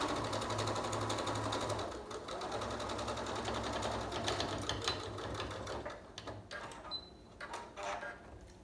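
A sewing machine stitches the waistband of pajama pants, a rapid mechanical whir that runs steadily, stops and restarts in short bursts, fairly quiet and close.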